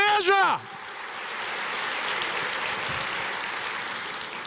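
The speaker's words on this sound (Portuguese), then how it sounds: "Você pode aplaudir o Senhor? Aplauda o Senhor." A church congregation applauds steadily after a brief sung or spoken voice at the start, the clapping a broad, even wash that carries on throughout.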